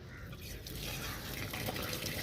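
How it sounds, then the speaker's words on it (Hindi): Water pours into a livestock feed mix being prepared for rams, giving a continuous splashing and trickling that swells slightly partway through and stays fairly soft and close. "वंडे के अंदर पानी डाल रहे हैं"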